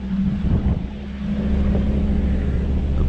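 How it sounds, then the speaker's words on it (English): Strong mountain wind buffets a car at Sani Pass, a constant deep roar and rumble heard from inside with a steady low hum underneath and no speech. "As you can probably hear now, the wind is insane up here"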